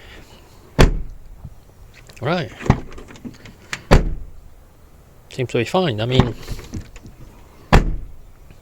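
Rear door of a Volvo XC90 II D5 with a closure fault, shut with several sharp thuds spread over a few seconds, close by, while someone talks between them.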